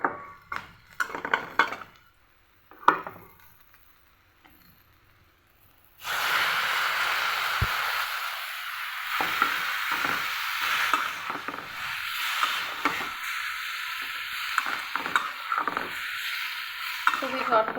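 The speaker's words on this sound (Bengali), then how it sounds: "এখন এর মধ্যে আমি শাকটা দিয়ে দিচ্ছি" Data greens (shak) stir-fried in a wok: after a few quiet scrapes, a loud continuous sizzle bursts in as the greens hit the hot oil, with irregular stirring clatters over it.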